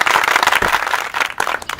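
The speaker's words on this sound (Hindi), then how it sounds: "सुरेश के लिए आप लोग सब तालियां बजाएंगे" Audience clapping for Suresh in a Hindi-dubbed film scene, a dense burst of hands close by that swells and dips over a couple of seconds.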